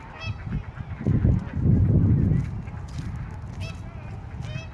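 Ducks in a park on a cool 9°C day, honking and quacking in a busy cluster through the middle, loud and close, with soft voices and outdoor ambience around them.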